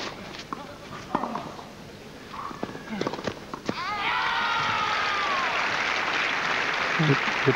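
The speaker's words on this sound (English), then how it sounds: "You can hear that there are certainly some Spanish supporters in the crowd." A tennis crowd in Kitzbühel, including Spanish supporters, cheers and claps loudly in a sustained roar, with whistles and a bright chant rising over it, while a commentator talks beneath.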